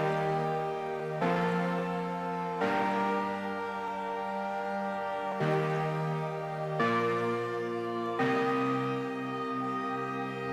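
A sustained synth chord patch plays a simple chord progression in FL Studio for a melodic drum and bass track, with six long, rich chords changing every couple of seconds, loud and steady with no talking.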